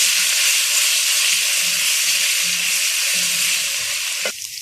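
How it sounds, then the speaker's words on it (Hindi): A tablespoon of ginger-garlic paste frying in plentiful oil for dhaba-style daal mash sends up a loud, close, hissing sizzle that holds steady before cutting off abruptly near the end. "अब इसमें हम 1 टेबलस्पून अदरक लहसुन का पेस्ट ऐड करेंगे और इसको"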